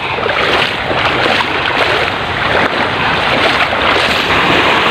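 Ocean waves washing in at high tide along a coast where people fish, a loud continuous roar of surf and wind noise with no voices.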